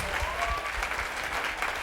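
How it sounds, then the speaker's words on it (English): A live audience at a beatbox show applauds loudly and continuously, a thick, sustained roar of clapping with cheering mixed in. "Round of applause for yourselves, please, audience."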